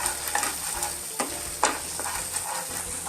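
Peas and potato masala with garam masala sizzles and fries in a pan, with a steady crackle broken by a few scraping stirs, close and alone.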